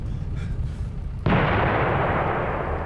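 In the video game Coast Guard, a sudden loud explosion aboard a ship cuts in partway through, then a sustained roaring rumble that stays loud to the end, over a low background din.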